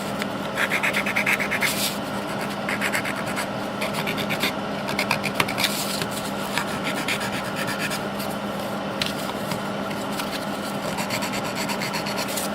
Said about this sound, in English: I'm going to sand these edges because it just smooths the whole process.